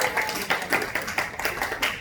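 Children at a church elementary Sunday school clap together in quick, uneven bursts, a faint, light patter of small hands repeating in short waves.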